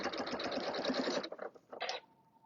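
A Janome Skyline sewing machine stitches fabric in a steady, fast whirring run, then stops and gives a few short mechanical clicks and whirs as the presser foot is raised and the fabric is repositioned.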